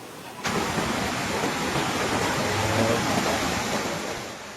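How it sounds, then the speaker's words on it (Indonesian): The fast, flood-swollen Cidadap river in West Java rushing past during a flash flood, a dense roar of churning water that starts suddenly and holds at a steady, fairly loud level. "Derasnya arus sungai Cidadap juga mengancam infrastruktur jembatan."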